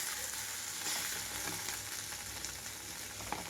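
Snake gourd pieces fry over a low flame in a pan, giving a steady, even sizzle that holds at a moderate level throughout, with faint scraping from stirring and no voices.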